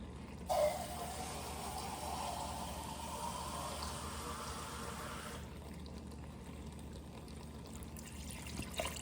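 Water pours steadily into a cooking pot for several seconds, a continuous hissing splash that shifts in tone partway through as the flow changes.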